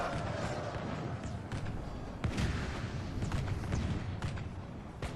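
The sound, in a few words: Empire gunners firing in Medieval 2 Call of Warhammer video game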